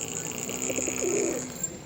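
Punjabi pigeons in a loft give a short run of soft, low cooing, a few throaty coos rising and falling close by over a steady faint hiss, with no talking.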